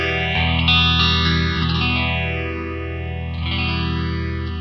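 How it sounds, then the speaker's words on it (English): Guitar through a rotary phaser pedal set to its 6-stage mode, a vintage, Leslie-like sweep rising and falling in slow repeating waves over a sustained tone, loud and steady with no talking. "I'm going to turn up the mode"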